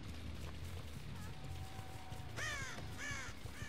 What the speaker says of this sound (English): I heard a crow.